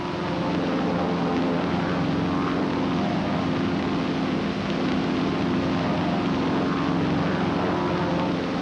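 Propeller-driven US Navy aircraft flying close formation, wingman crossing under on throttle; a steady, loud, continuous engine and propeller drone with a broad roar and low throbbing hum, no voices.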